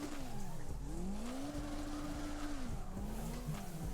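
A car drifts in the CarX Drift Racing video game, its engine tone rising and falling under sustained tire squeal and skidding. The sound stays steady and moderately loud with no voices.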